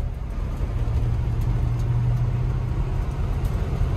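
A 1979 Chevrolet K10 truck, abandoned for over 20 years, drives in second gear with a loud, steady engine rumble and road noise continuing throughout, with no talking.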